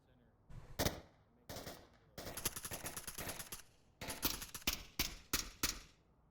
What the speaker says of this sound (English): Shots immediately coming out from Ebo says he thinks he sees one